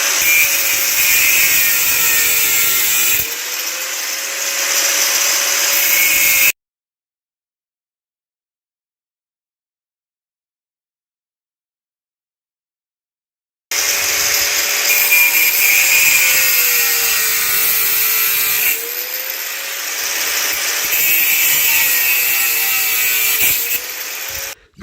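Power tool with a cutting disc grinding through a thin iron rod, a loud, harsh, continuous whine with a steady tone, in two long bursts separated by silence.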